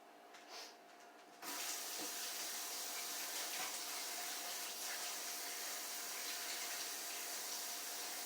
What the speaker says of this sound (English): I'm going to give my hands a quick rinse